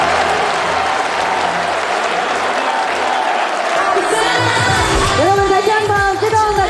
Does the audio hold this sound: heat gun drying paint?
no